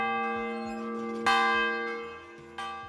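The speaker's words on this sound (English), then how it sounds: "every single person takes a turn ringing the bells outside church" Church bells ringing outside a church at Christmas: two loud, close strikes with long ringing tones that decay between them, alone without talk.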